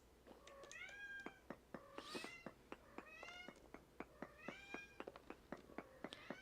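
Chell, a pet cat, meows over and over in quick, insistent bursts, each call short and clear, close by in a quiet room.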